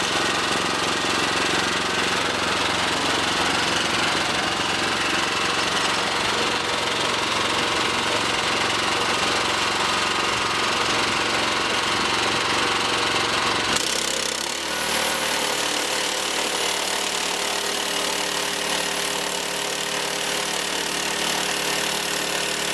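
A Frontier OS31 sawmill runs loud and steady, its engine roaring without pause while the blade cuts a log down into a 4x4; the pitch drops and settles partway through as the cut changes.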